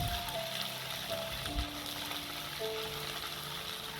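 Ginger garlic paste sizzles and fries in hot oil for a Tamil rava kichadi, a steady close crackling hiss with faint stirring throughout.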